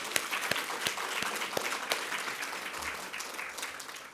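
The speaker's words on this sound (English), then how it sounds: "round of applause for APEX" Steady applause from a conference crowd, dense clapping with a few sharper individual claps standing out, fading slightly toward the end.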